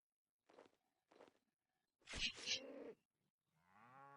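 Cows mooing in the RuneScape 3 video game: a few soft footstep-like thuds, then a loud, close low moo, and a second drawn-out lowing moo trailing off at the end.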